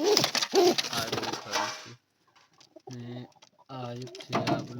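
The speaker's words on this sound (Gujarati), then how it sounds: "કબૂતર એની ઉપર બેઠું છે અત્યારે" A pigeon sitting on eggs in its nest coos in soft, low repeated phrases, close by, heard between and alongside someone talking.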